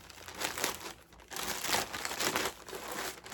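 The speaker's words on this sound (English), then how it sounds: "I cut it a little bit and then rip it." A plastic shipping mailer being torn open after a small cut, several bursts of crackly crinkling and ripping with brief pauses between, close-up and moderately quiet, no talking.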